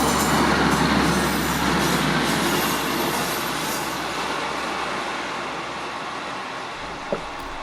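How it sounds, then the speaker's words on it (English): An eastbound train rumbles steadily past at Wetheral near the viaduct over the River Eden, a loud, broad roar of wheels and carriages that slowly fades as it moves on, with a brief metallic squeal near the end and no talking. "Two eastbound trains are due before the Pullman."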